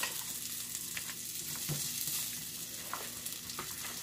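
Beyond Burger patties sizzle in butter in a frying pan, a steady, close crackling hiss with scattered pops and a few light scrapes, and no one speaks.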